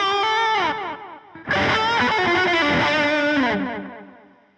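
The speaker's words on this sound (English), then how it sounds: "One is kind of your generic delay sound." An electric guitar through a Keeley Halo Andy Timmons signature delay pedal plays a few overdriven notes and then a strummed chord, each repeated by a single-note delay that trails off and fades, loud and close with no talk.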